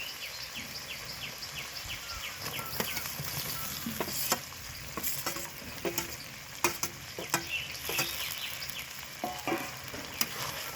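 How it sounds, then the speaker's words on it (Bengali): Fried eggplant and potato tipped into oil rendered from fish, crackling and sizzling steadily with sharp scraping and stirring clatters scattered throughout, close up, with no voices. "এবার যে আমি ভেজে রেখেছি বেগুন আলুটা দিয়ে দেবো বন্ধুরা"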